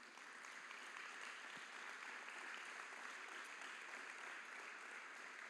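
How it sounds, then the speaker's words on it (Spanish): A church congregation gives a steady round of applause during a sermon. The clapping is continuous and rather faint, heard as a distant, even patter. "Le damos un aplauso al Señor"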